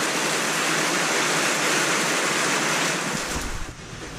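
Heavy rain pours down outdoors during a backyard barbecue cookout, a dense, steady hiss of downpour that holds loud and even for most of the stretch before thinning slightly near the end.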